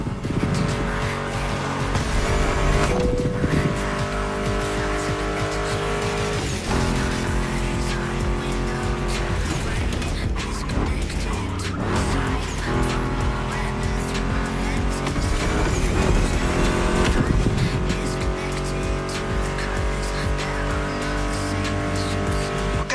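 Loud, continuous roar of muscle car engines, including a Mustang GT, revving and shifting in The Crew Motorfest, with tire squeals and skids throughout, dense and unbroken.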